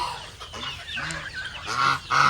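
Several chickens cluck and squawk nearby in short, overlapping calls that grow louder toward the end.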